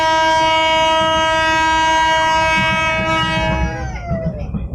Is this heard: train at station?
yes